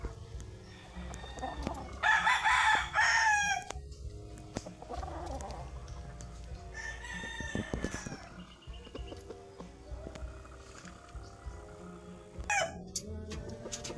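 A Silton cross Golden Boy rooster crows loudly and close in several bursts, with clucking and other fowl sounds between calls and faint farmyard noise behind.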